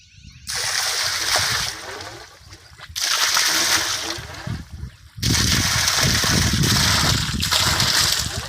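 Water from a Shakti 3 hp solar-powered borewell pump gushes out in loud, close splashing that comes in three strong, continuous bursts, each separated by a brief dip.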